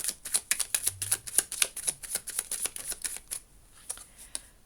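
Tarot cards shuffled by hand at close range, a quick series of crisp riffling slaps and flicks in an irregular rhythm, thinning out toward the end.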